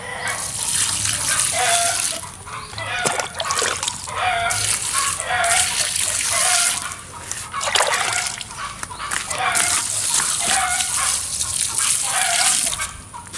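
Leachate liquid fertilizer splashing and pattering onto garden plants in an organic home garden, a steady wet spatter with sloshing that continues throughout, with a person speaking briefly over it.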